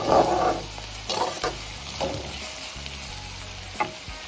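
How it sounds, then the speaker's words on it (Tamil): Mustard seeds, dried and green chilies, garlic, curry leaves and onion sautéing in a pan for drumstick-leaf sambar, with a steady close sizzle and a few clinks of stirring, no talking. "கடுகு காஞ்ச மிளகா பச்சை மிளகா பூண்டு கறிவேப்பிலை அப்புறம் வெங்காயம் போட்டு நல்லா வதக்கிக்கோங்க"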